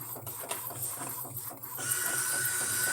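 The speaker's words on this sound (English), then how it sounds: "I like to keep around 3 sheets, which is a nice thick for the printer to grab it." A DTF printer grabs and feeds a transparency film sheet, a steady close mechanical whir with rhythmic clicking pulses that rises into a louder continuous motor hum partway through, with no talking.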